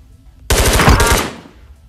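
Rapid automatic gunfire in the VR shooter Ghosts of Tabor, a loud close burst of about a dozen quick shots that stops abruptly and leaves a fading echo.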